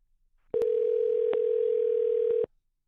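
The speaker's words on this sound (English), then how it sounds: "I'll call that guy back." Single steady telephone ringback tone on an outgoing call, a clear, close electronic beep held about two seconds with faint clicks, then silence.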